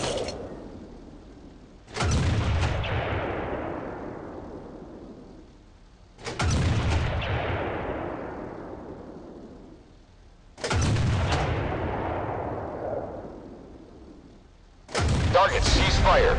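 Tank cannon shots from a Type 90 in the MWT: Tank Battles video game, four heavy booming blasts spaced a few seconds apart, each with a long rumbling decay.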